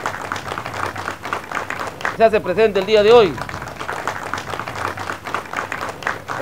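A crowd at a health workers' strike rally for the Cañete Yauyos health network claps in dense, rapid applause, with someone talking loudly over it through a PA.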